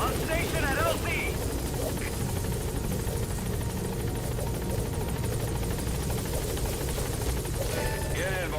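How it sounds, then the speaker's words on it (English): A support helicopter's steady rotor drone in Metal Gear Solid V: The Phantom Pain fills the whole clip, loud and continuous, with a few brief electronic game sounds and voices mixed in. "Support helicopter has arrived."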